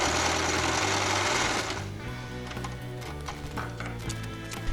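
A sewing machine stitches hand puppet fabric, starting with a rough burst of rattle, then settling into a rapid, even clatter of needle strokes close by, with no talking.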